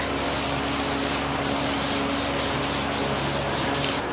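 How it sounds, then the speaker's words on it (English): Copper gasket spray from an aerosol can coating an engine part during a 408 stroker build, a steady, loud, unbroken hiss lasting several seconds with no talk. "Let's get the copper spray out."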